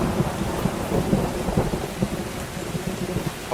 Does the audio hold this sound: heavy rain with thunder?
yes